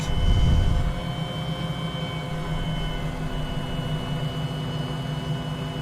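A Cowansim 500E helicopter in Microsoft Flight Simulator lifts off in a tailwind: a steady whining turbine drone with a constant hum, a louder rumbling surge in the first second, then an even, continuous engine tone.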